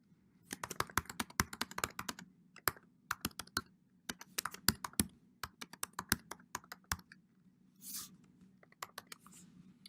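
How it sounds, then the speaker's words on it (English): Java code being typed on a computer keyboard: rapid, irregular bursts of close, crisp key clicks with short pauses between runs, heard alone with no talking. "I'm going to go ahead and type in"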